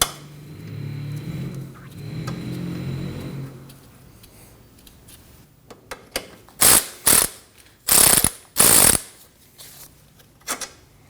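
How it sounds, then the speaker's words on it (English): A ratchet works the 12mm lower sway bar link bolt on a 2003-2006 Subaru Baja front suspension, heard as several quick bursts of close, crisp clicking after a quiet stretch of low background noise. "We can remove the lower bolt holding in our sway bar link with a 12mm"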